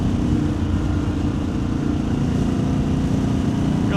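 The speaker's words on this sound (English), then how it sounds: "Bus peeling out." A bus accelerates away in city traffic in Raleigh, heard from a 2025 Harley-Davidson Pan America ST, its loud steady engine and road rumble running unbroken and close throughout.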